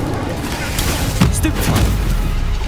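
A fiery Incendio spell cast in Hogwarts Legacy erupts as a short burst of booming blasts around the middle, set against a steady bed of game sound.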